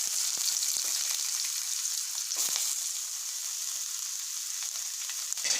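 Onion frying in hot oil for veg manchurian makes a steady, loud, close sizzle that runs throughout, with a few light scrapes and clinks of a spoon.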